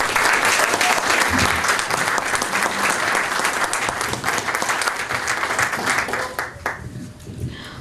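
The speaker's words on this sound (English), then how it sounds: "Please give a big round of applause for KrisAnne." Audience applause for a speaker at a High Noon Club gathering, a loud, full burst of many people clapping that rolls on steadily, then thins and tapers toward the end as individual claps and room noise emerge.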